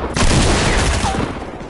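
Shotgun fire in a video game, a loud close burst of blasts in quick succession that rings and decays over about a second and a half.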